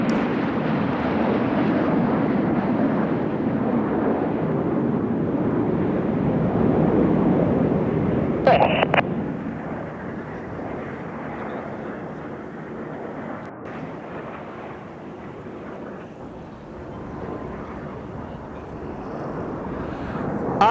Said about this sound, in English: As the synchro pair leaves to our rear, coming in from the front right 45, Enid starts to pull up with the white smoke